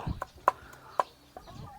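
Laying hens on a Thai farm give a few short, sharp clucks spaced apart, fairly close and moderately quiet, over a low background of faint shuffling.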